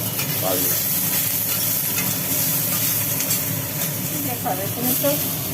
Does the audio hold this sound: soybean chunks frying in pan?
yes